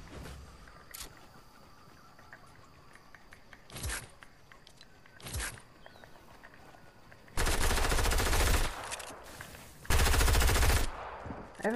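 Submachine-gun fire in Fortnite: a few faint distant single shots over a noisy game backdrop, then two loud, close sustained bursts of rapid automatic fire lasting a couple of seconds each.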